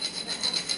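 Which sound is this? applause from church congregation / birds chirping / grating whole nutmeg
grating whole nutmeg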